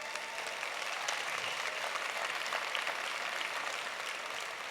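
Sustained audience applause for a team at a company gathering, dense and steady throughout, with no clear voices above it.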